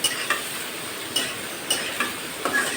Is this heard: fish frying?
yes